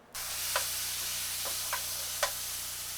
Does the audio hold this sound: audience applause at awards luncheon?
no